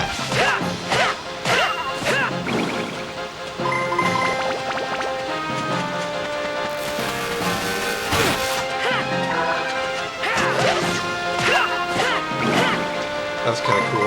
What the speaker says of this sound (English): Very nice with that smash with that smash wrench there, Matt.